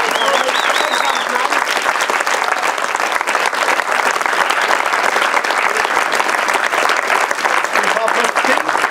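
A festival audience at a Fantasia film screening in Montréal bursts into loud, sustained applause, thick and unbroken for nine seconds, with a few voices and cheers rising over the clapping at the start.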